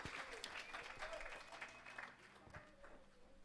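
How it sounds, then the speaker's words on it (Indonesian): A church congregation at a 2022 Christmas service gives a brief round of applause for the Palmer Senot team, a soft, fairly distant patter of clapping that fades slightly toward the end. "Kita berikan tepuk tangan dulu untuk tim Palmer Senot."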